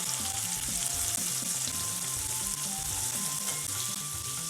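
Butter being stirred into hot caramel in a pan for a banana tart tatin, a continuous loud sizzle and bubbling with faint scraping of the stirring, close and steady with no talking.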